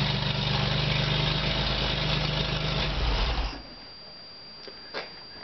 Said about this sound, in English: while the engine was running